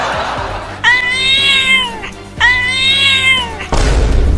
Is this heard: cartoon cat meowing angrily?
yes